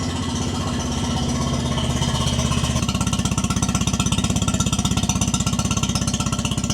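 A Mercury outboard motor on a restored pontoon boat, running close and loud with a steady chugging pulse that becomes a firmer, evenly throbbing idle partway through, with no voices.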